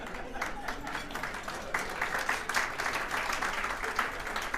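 A crowd at a political speaking event breaks into steady applause, dense clapping from many hands filling the room at moderate volume throughout.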